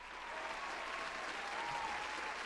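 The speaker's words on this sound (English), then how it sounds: "Let's clap it up." Applause on a horror movie podcast: a dense, even patter of clapping, fairly faint and steady for a couple of seconds, with no voices over it.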